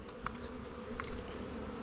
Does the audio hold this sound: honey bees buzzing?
yes